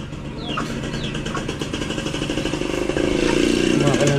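A motorcycle engine idles with a steady low rumble throughout, growing slightly louder toward the end, while people talk over it.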